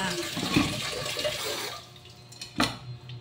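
Mung beans being rinsed in water: steady, close sloshing and splashing that fades out, followed by a brief clatter and drip, with a voice speaking over it.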